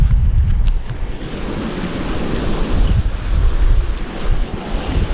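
Strong wind blows outdoors by the water during winter bass lure fishing, a continuous loud rumbling gusty roar buffeting the microphone, with no speech.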